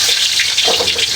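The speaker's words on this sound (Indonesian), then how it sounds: "Itu suara air sungai." River water rushing steadily and close, a dense continuous hiss and gurgle with no voices over it.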